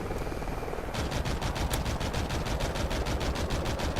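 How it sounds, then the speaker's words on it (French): Rapid machine-gun fire in a video game hammers at a helicopter. After about a second of steady rotor and engine roar, loud, evenly spaced bursts of shots repeat over the din, with no talking. "Vas-y, détruisez mon hélico là."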